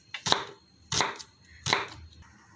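A knife chops carrots on a board while preparing chicken shawarma, three crisp separate strikes spaced about 0.7 seconds apart, close and clear with no talk.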